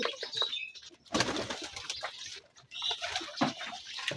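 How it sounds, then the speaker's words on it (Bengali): A pigeon that has come to a home coos softly and flaps its wings close by, with rustling bursts of wingbeats mixed with low calls and no voices. "তো কবুতরটি আর কি আমার বাসায় আসছে আগামীকাল।"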